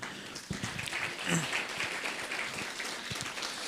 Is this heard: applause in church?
yes